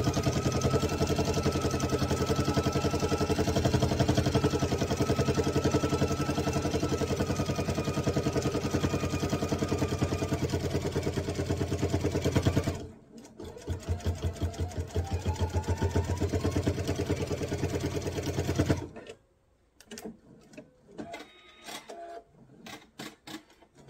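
A sewing machine runs a regular stitch along the seam of a mesh tote, a steady close whirring for about thirteen seconds, then several shorter stop-start bursts as it works through the thicker end, before falling quiet with a few clicks.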